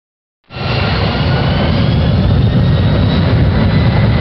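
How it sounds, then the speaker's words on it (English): Jet engines on a landing airliner roar at full reverse thrust, a loud, steady broadband rush that starts abruptly after a moment of silence and holds without a break. "Now raise the reverse thrust levers to the full reverse position."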